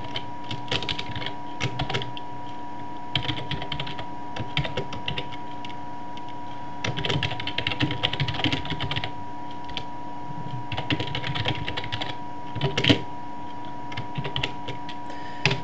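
Code is typed on a computer keyboard in bursts of rapid, close key clicks separated by short pauses, with a faint steady hum underneath and no voices.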